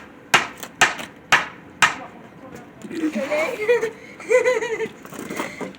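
Four sharp, evenly spaced wooden thwacks of an axe splitting firewood ring out close and loud, followed by a person talking over faint background noise.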